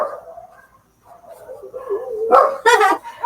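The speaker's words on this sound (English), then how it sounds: "All the dogs are barking now." Several dogs bark and yip nearby, a few sharp barks rising into a cluster of overlapping yelps toward the end.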